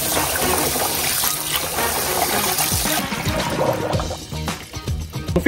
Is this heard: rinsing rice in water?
yes